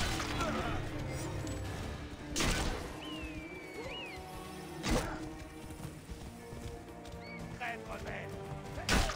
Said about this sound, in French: Bon, poussez-vous les chevaux.